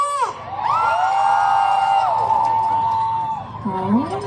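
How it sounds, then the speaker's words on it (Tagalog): Supporters on the left side of a large political solidarity rally for Marcoleta roar and cheer, a loud sustained wave of crowd shouting with a drawn-out high call riding on top before it tapers off. "Parinig ng masigabong palakpakan at sigawan sa mga nasa kaliwa!"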